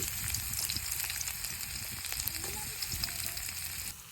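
Chopped onions, crushed garlic and garam masala sizzle in hot oil in a kadai, a steady, close frying hiss with faint stirring ticks underneath.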